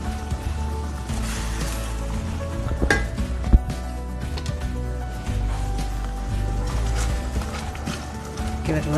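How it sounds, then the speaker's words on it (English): Spaghetti sauce with fresh basil and parsley is stirred in a pan, a steady low simmer and sizzle with scraping and clinks of a utensil against the pan, close up and continuous. "Give it a little stir."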